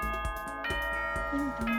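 A bright, ringing chime plays ahead of the nighttime announcement in the Danganronpa video game, with several bell-like tones over a musical backdrop and a voice briefly cutting in.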